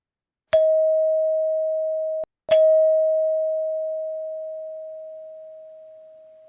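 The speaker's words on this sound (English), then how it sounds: "with the sound of the chime, we'll begin and then end our meditation" A clear meditation bell chime strikes, rings briefly, is struck again, and the second tone sustains and slowly fades in stillness.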